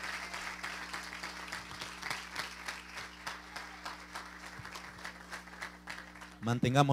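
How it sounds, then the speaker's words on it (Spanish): Church congregation applauding during a missions service, sustained clapping under a low steady hum, with a voice breaking in at the very end. "Denle un aplauso al Señor."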